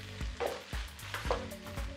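Pad see ew rice noodles with shrimp stir-fried in a hot pan, sizzling steadily while a utensil scrapes and tosses them in repeated strokes, close and alone.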